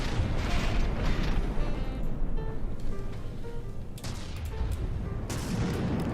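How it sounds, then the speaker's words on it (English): Mortars firing during a naval battle in the game From the Depths, a dense rumbling barrage of booming shots and thuds over a constant roar, with a few sharper blasts standing out, no talking. "Most of our mortars do miss,"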